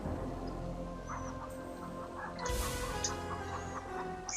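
Soft, synthetic-sounding chicken clucks from the video game King's Quest III Redux come in short bursts over a quiet humming backdrop, with a brief whoosh midway.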